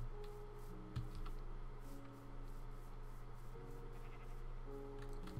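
Sheep bleating repeatedly in Minecraft, several short calls scattered over a steady background hum and music tones, moderately loud.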